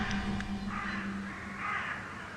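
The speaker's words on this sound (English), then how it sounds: "all I could hear were birds" Several crows caw in the distance on Fifth Avenue in Manhattan in a loose sequence of harsh calls over a steady low background hum.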